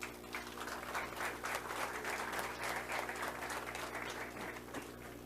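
Sustained applause from a crowd at a political address, a dense, continuous patter of many hands heard at moderate distance, steady throughout with no voices standing out.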